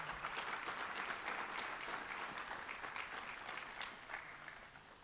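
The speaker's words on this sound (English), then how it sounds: "How about one more round of applause for Nigel Walker?" An audience at a Hilton Hall of Fame ceremony gives a sustained round of applause, steady dense clapping from a hall full of people that fades slightly toward the end, with no voices over it.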